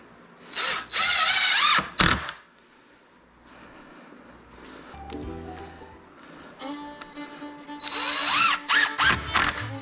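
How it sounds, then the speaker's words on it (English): A power drill drives screws into lumber while a chicken tractor is built, two loud bursts of drilling near the start and another cluster of whirring runs at the end, with quieter handling sounds between. "And then throw some screws in."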